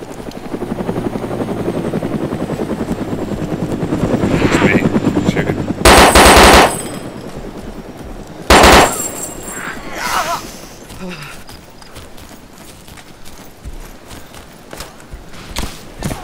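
Bursts of gunfire in the video game DayZ, loud sharp volleys around six and nine seconds over a steady rotor-like drone, with fainter shots trailing off afterward.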